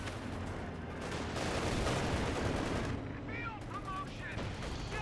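Rattling bursts of MG42 machine-gun fire in Company of Heroes 2 battle, dense and continuous over rumbling game action, with a few faint whistling sounds near the end.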